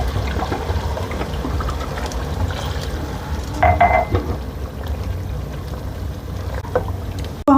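Water poured into a cooking pot of tinday and meat, a soft splashing trickle under faint kitchen clatter, with a brief louder burst partway through.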